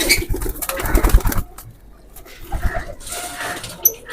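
Bruce Lee teddy breed pigeons coo and shuffle close by in a loft, making soft irregular calls with bursts of wing and body movement.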